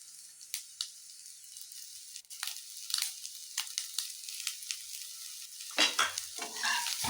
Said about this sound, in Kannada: ಇದಿಷ್ಟನ್ನು ಹಾಕಿ ಮತ್ತೆ ಒಂದ್ಸರಿ ಫ್ರೈ ಮಾಡ್ತಾಯಿದ್ದೀನಿ.